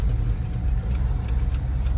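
A 1986 Ford F-150 Bullnose pickup with a four-speed gearbox driving along, steady low engine rumble and road noise from inside the cab, no one talking.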